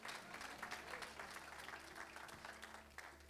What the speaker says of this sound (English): Come on, that is worth clapping to.